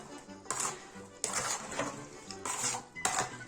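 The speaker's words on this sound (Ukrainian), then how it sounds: "І тепер гарно все перемішуємо." A spicy vegetable salad with salt, sugar and spices is stirred in a bowl, with repeated clinking scrapes of a utensil against the dish coming in uneven strokes, close and fairly quiet.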